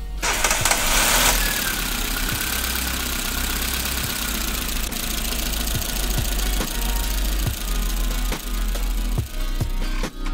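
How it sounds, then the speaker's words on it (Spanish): A Chevrolet Matiz/Spark engine starts with a brief cranking burst, then settles into a steady, close, loud idle with regular ticking knocks and no talk over it. "Arrancamos el motor y verificamos enseguida que no haya ninguna fuga."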